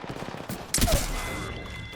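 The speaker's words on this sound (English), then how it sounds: "You're getting shot from behind." A sudden gunshot burst in Apex Legends during a firefight, one sharp close blast ringing out over a steady game background.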